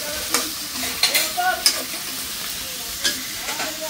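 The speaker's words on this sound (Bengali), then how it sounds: "এটা রান্না চলতেছে, এটা আমাদের খাওয়ার জন্য রান্না করতেছে" Fish curry simmers in a pot while it is stirred, with an ongoing sizzle broken by several sharp scraping and clinking stir strokes close to the microphone.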